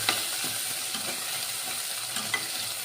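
Tomatoes and green chillies being sautéed in a pan for a cauliflower kari kulambu, with a steady close sizzle broken by soft scraping stirs and a few sharper clinks of the spoon.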